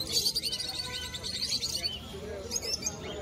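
Pigeons at a crowded pigeon market, birds chirping and fluttering calls rising repeatedly over a busy murmur of people in the background.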